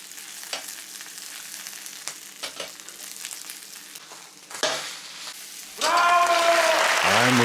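Vegetable buchimgae sizzling in oil in a pan, a soft steady fry with scattered crackles that turns louder and denser near the end as the pancake is pressed, close up, no one talking.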